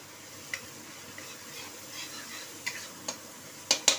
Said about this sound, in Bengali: চলো এটাকে একটু নাড়িয়ে নিই। পেঁয়াজের রসটা একটু মরে যাক।